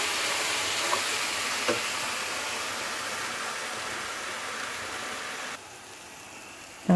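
Onion and spice masala with red chili powder sautéing in a pan gives a steady, even sizzle close by, with a couple of faint clinks and a sharper knock at the very end.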